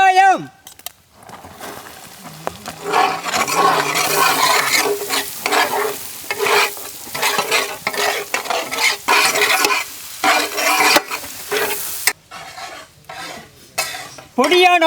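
Finely chopped onions frying in butter in a large pan, a continuous loud sizzle with a utensil stirring and scraping against the metal, occasional clinks, and brief bursts of voice at the start and end.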